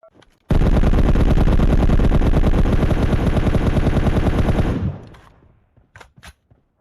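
Rapid sustained video game machine-gun fire heard through gaming earphones, a dense loud burst lasting several seconds before cutting off, followed by a few faint isolated shots.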